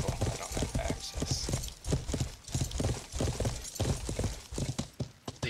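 Horse hooves clip-clop in a steady, rhythmic gait in a PvP video game, moderately loud and continuous with no talk over them.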